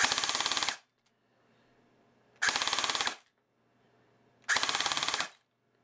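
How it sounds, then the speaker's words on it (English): A Valken Battle Rifle airsoft gun, with its cutoff lever failing to stop it on semi, fires three loud full-auto bursts of rapid rattling shots, each under a second long, separated by quiet pauses. "And here's a full auto burst."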